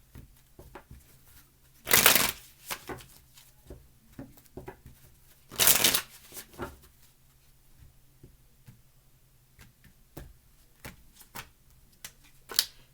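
Tarot cards shuffled in two brief bursts, crisp riffling rustles followed by scattered soft taps and card handling, close and fairly quiet.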